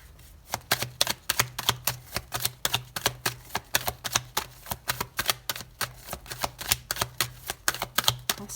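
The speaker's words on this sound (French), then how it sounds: "On va aller poser les cartes. On laisse sauter les 9 cartes." Tarot cards are laid down one after another on a table, making a quick, steady run of crisp slaps and clicks at close range with no talking.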